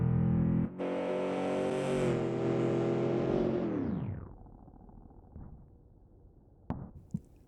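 A 1972 Ford F-100 street/strip truck in BeamNG.drive launches hard off the line, its engine roaring high and loud before the revs drop sharply and fade, leaving a faint idle with a couple of brief clunks at the end.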